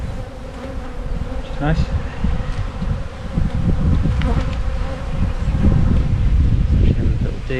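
Honey bees buzz densely and steadily in an open hive during an inspection after a swarm cell queen has emerged, a constant close drone with light rustling and a brief spoken comment.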